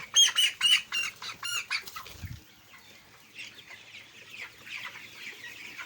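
Broiler chickens about 19 days old and close to 1 kg cluck and squawk close by, with a busy burst of calls at first that thins into softer scattered clucking.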